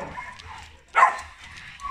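Dog in a kennel at an animal shelter gives a short whimpering yelp, a single near, moderately loud cry rising briefly out of quiet background noise.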